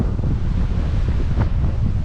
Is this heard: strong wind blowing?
yes